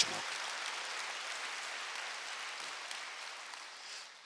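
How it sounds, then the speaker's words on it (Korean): Steady, fairly faint applause from a church congregation during a Wednesday service, a dense wash of clapping heard at a distance. "박수"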